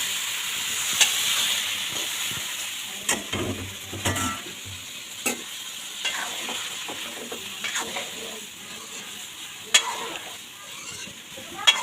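Spice paste with garam masala stirred and fried in a pan, a constant close sizzle broken by repeated scraping knocks of a spoon against the metal.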